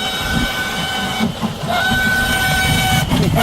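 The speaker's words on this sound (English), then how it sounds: "Technically, we're running trains." Model trains run at a Spring Creek model train show, giving a steady rumble and rolling rail noise with faint whistle-like tones throughout, loud and close, with no talk.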